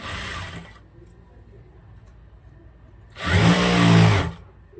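A sewing machine stitches a gown sleeve in two short, loud whirring bursts, one at the start and one near the end, separated by a quiet pause.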